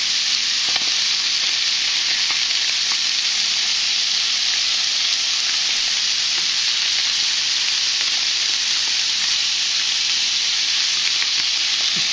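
Blackened crappie fillets frying in a hot pan as they are flipped, giving a loud, continuous, steady sizzle with faint scraping underneath and no speech.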